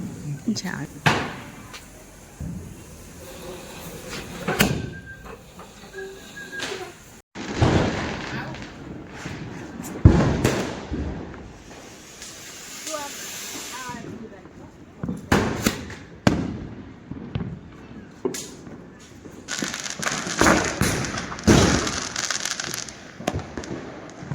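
Diwali firecrackers bang repeatedly at irregular intervals, some sharp cracks close by and others further off, with people talking and laughing in between.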